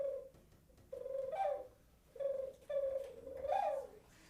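An ocarina played to imitate the cooing of pigeons and doves: several soft, hollow, breathy tones with sliding pitch, repeated in short phrases with pauses, close and clear.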